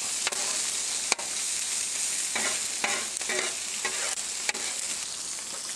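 Bacon and squash fry on a Blackstone griddle, a constant hiss with several sharp spatula taps and scraping stirs breaking in at intervals, close up and without speech.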